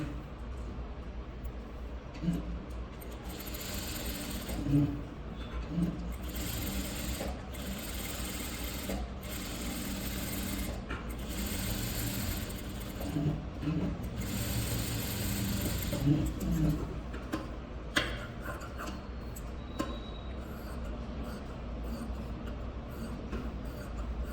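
A sewing machine stitching a designer blouse runs in bursts of rapid mechanical whirring, broken by brief pauses and handling sounds, at moderate volume with no talk.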